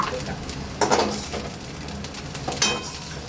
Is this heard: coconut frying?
yes